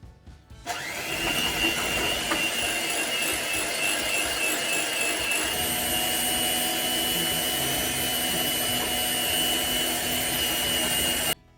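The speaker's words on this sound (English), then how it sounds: "we're just going to whisk the butter in" Butter being whisked into a sable Breton tart mixture in a bowl gives a steady, continuous whirring drone that runs unbroken for about eleven seconds, fairly loud and close, with no talking.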